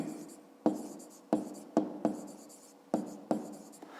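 A pen taps and scratches on paper while a fifth-grade maths exercise is written out, with sharp strokes recurring every half second or so, each fading into soft scraping, close and steady.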